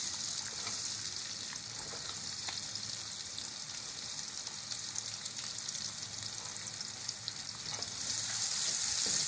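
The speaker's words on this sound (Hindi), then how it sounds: "ऑयल हमारा गर्म हो चुका है। अब हम इसमें प्याज ऐड करेंगे।" Onions sauté in hot oil with a constant bright sizzle that swells louder toward the end, heard up close without any voices.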